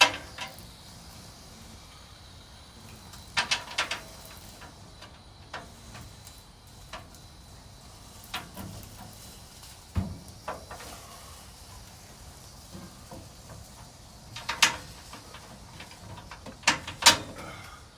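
Carriage bolts being worked loose and removed while a Torklift Glowstep step is installed, giving scattered metallic ratchet clicks and mechanical rattles in short bursts, fairly close and moderately quiet against a low background.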